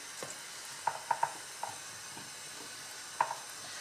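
Washed chickpeas and carrots drop into a pot for Algerian couscous royal, giving a few soft, scattered knocks and clinks over a faint, steady background hiss.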